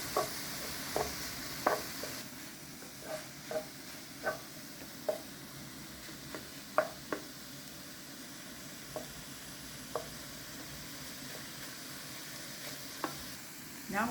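Pepper paste sauce sizzles softly in a frying pan while a utensil stirs it, leaving a regular series of light taps and scrapes over the quiet continuous frying hiss.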